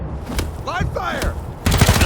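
Gunfire erupts in the post-apocalyptic game Wasteland 3, a rapid, loud burst of shots that follows a brief spoken voice line and closes the moment.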